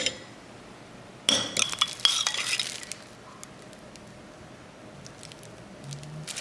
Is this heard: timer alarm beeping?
no